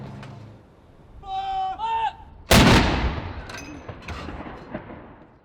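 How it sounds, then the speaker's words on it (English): A ceremonial artillery gun salute at Hyde Park and the Tower of London. One sharp, loud boom is followed by a long rolling echo and fainter reports, after a brief high whistling tone. "guns were fired at Hyde Park, and there was also a gun salute at the Tower of London"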